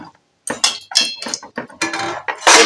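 A pot lid set down on a pot of broad beans heating in water on a gas stove, giving a quick series of close metallic clanks and clinks with a louder clatter at the end.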